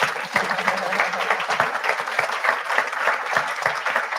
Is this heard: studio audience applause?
yes